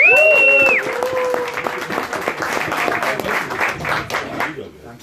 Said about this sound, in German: Und natürlich mit einem, sei erlaubt, noch viel größeren Applaus unseren Trainer Basti Wanner.